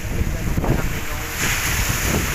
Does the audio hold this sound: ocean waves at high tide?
yes